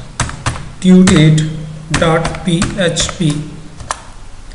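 Computer keyboard keys clack in quick bursts as a web address is typed, close and fairly loud, partly under a voice speaking over the typing.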